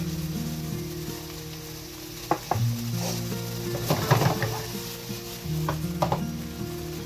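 Peppers sizzling in a pan while cooking Brazilian picadillo, a steady close frying hiss with scattered stirring scrapes and clinks, no voices.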